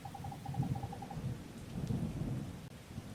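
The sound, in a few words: thunder in the video game Wargroove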